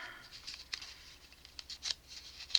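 Quiet, irregular snips and crisp paper cuts, a few sharper clicks standing out near the end, close by with no talking.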